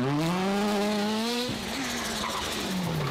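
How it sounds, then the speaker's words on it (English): Rally car at full throttle: a loud rising engine note climbs through the gears, then breaks off into a burst of tire and gravel noise before the engine pulls again, close and steady throughout. "Bro, the turbo sound is so insane."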